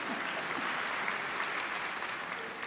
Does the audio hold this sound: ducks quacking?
no